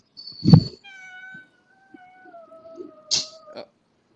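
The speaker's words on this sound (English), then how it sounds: "I don't mind the cat" A cat meows near a microphone during a podcast call. There is a sharp cry, then a long drawn-out wavering meow, then a short final mew, with quiet gaps between them.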